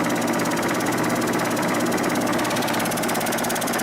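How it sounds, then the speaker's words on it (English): A pump driven off a belt and motor on a Delta bandsaw setup runs steadily with a dense, even mechanical hum and rapid rattling pulse, loud and close with no talking. "The pump's working. Hear that?"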